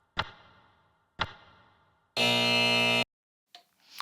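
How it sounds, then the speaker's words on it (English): A wrong-answer buzzer sounds once, a harsh flat blare lasting under a second, preceded by two sharp percussive hits that ring out and followed by a couple of brief softer clicks. "I feel like that buzzer's like saying wrong answer."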